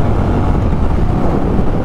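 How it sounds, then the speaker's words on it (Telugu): A Honda CB 350 RS with an air-cooled 350 cc engine accelerates; a dense, steady low rumble runs throughout, roughened by heavy wind buffeting on the microphone, with no speech. "22 PS పవర్, 30 Nm టార్క్ అయితే ఈ ఎయిర్ కూల్డ్ ఇంజిన్ జనరేట్ చేసేది కాబట్టి పెర్ఫార్మెన్స్ మీరు చూడొచ్చు ఇక్కడ."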